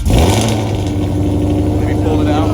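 A loud, deep modified 2020 Mustang Shelby GT500 engine rumbles and revs close by, a throaty growl that swells and settles, with a voice faintly underneath.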